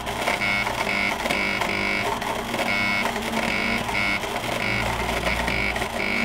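An electrode erosion machine burns out a broken drill bit, giving a steady, dense electrical buzz with a tonal hum and crackling pulses that hold at an even level throughout.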